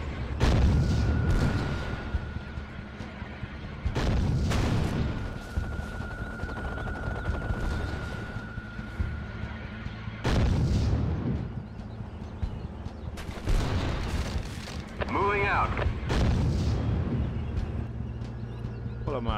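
Gunfire and artillery from Act of War come in several heavy bursts spaced a few seconds apart, each loud and broadband, with quieter stretches of battle noise and voices between them.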